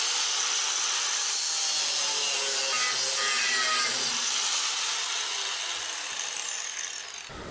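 A cutting disc slices through steel stock being shaped into a wood-turning chisel, a steady loud grinding whine with a high screech that runs for several seconds, then tapers off near the end.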